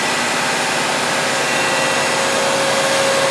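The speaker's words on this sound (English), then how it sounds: "we're going to put a load on this system with the carbon pile load tester" Carbon pile load tester drawing current from a Ford Taurus alternator, a steady loud whining hum with a constant electrical tone and no voices.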